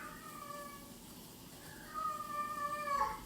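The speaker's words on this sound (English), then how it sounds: "I've got a cat in heat, unfortunately, so if you hear, her name's Salem" A female cat named Salem, in heat, gives drawn-out tonal meows, one fainter call followed by louder wailing cries near the end, heard indoors against a quiet background.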